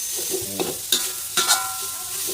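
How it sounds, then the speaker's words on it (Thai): Minced pork stir-fried in oil over a charcoal stove, a steady close sizzle broken by sharp clanking spatula strokes against the pan, alone without any talking. "คั่วหมูให้สุกครับ"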